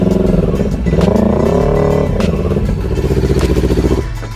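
An electric Kawasaki Ninja motorcycle is throttled up close, a loud whining motor tone that rises and falls in pitch over a rough mechanical rattle, continuous throughout.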